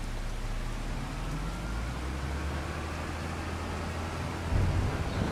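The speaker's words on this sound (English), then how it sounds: "you've left loads of corn sitting in the rain." Steady rain falls in Farming Simulator 25 on a Welsh farm, a constant even hiss with a low rumble beneath, continuing alone without voices throughout.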